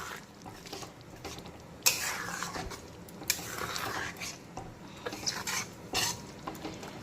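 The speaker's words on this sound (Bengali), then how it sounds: "গ্রেভিটা চারদিক থেকে খুব সুন্দর করে ফুটতে শুরু করেছে টকবক করে" A thick Bagda prawn curry gravy bubbles and sizzles in a wok, with scraping and clinking from a stirring utensil and occasional louder splutters over a soft, steady simmer.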